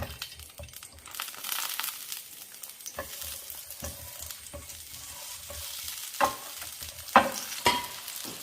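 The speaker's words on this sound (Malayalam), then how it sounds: "അത് ഈ നെയ്ക്കകത്തൊന്ന് വഴറ്റിയെടുക്കണം." Three small tomatoes sauté in ghee while a utensil stirs them in irregular scraping strokes over a soft sizzle, with a few sharp clinks of metal near the end and no talk.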